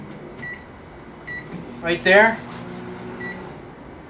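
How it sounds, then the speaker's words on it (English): Microwave oven humming nearby, with a few short electronic tones and a brief louder burst in the middle, while someone talks over it. "take it in the microwave"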